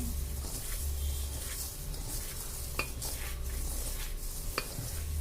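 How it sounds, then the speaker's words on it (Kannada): Chakli dough with salt and chili powder being stirred and mixed in a bowl, making a continuous soft scraping and rustling with a couple of small clinks, close and quiet, with no voices. "ಮತ್ತು ಈಗ ಇದನ್ನೆಲ್ಲ ಮಿಕ್ಸ್ ಮಾಡ್ತೀನಿ"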